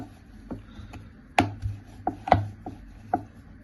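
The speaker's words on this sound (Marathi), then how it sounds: "आता आपण शंकरपाळी लाटून घेऊया" Wooden rolling pin knocking and rolling over shankarpali dough on a board, a series of sharp, close taps and thuds at irregular intervals over a low steady hum.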